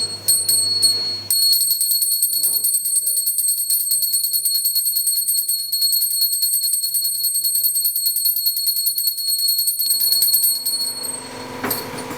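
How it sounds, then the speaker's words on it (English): A small hand bell rings for a Hare Krishna food offering to Krishna, a bright, continuous close-up jingle that lasts about ten seconds, with faint sounds from the room underneath. "then we ring the bell again and we take it off"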